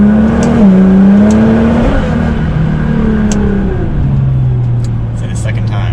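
A Nissan GT-R engine climbs in pitch under acceleration, then drops with each upshift, repeating through several gears in a loud, close, steady drone.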